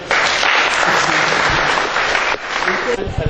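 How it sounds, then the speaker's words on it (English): Audience applause at a church or community gathering, a dense sustained clapping from many hands that holds steady for over three seconds, briefly dips, then continues with a few louder individual claps near the end. "Please clap for him."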